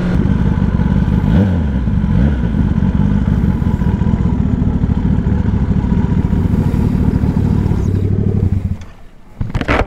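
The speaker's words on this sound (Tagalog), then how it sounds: "Ganda na tunog ng motor natin." A Kawasaki ZX10R sportbike engine revs hard and close up on a ride through Kaybiang Tunnel, a loud steady roar with rising and falling pitch sweeps that drops off sharply near the end before picking up again.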